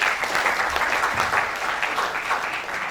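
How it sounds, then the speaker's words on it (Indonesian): A crowd at a farewell ceremony for a departing PLN Icon Plus cohort claps briefly, a few seconds of close, lively applause with uneven swells. "Tepuk tangan untuk Mas Fandi."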